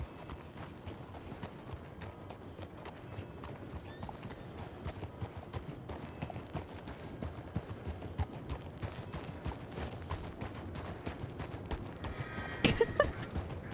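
Horse hooves clip-clop at a steady pace in the video game Red Dead Redemption 2, soft and continuous, with a sharper burst of noise near the end.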